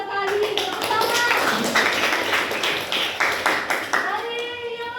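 Schoolchildren in a classroom clap together after a classmate answers, a lively, close burst of many hands with sharp individual claps, while young voices chatter underneath throughout.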